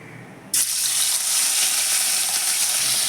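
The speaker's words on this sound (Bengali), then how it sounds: "মাছগুলোকে নামিয়ে নিয়েছি এবার ওই তেলের মধ্যে মাছটাকে ভেজে নেব" Rohu fish pieces dropped into hot mustard oil, a sudden loud sizzle bursting in after a quiet half second and continuing as steady, close crackling frying.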